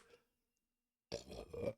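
A short, fairly loud burp erupts after a brief faint sound and a stretch of silence.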